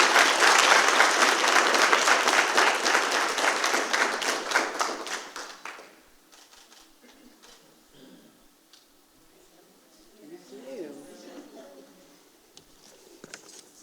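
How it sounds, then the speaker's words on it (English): Audience at a school district board of trustees meeting applauding a student award winner: loud, dense clapping for about six seconds that quickly fades to quiet room tone with a few scattered taps and faint murmurs. "Let's give Lillian a huge round of applause."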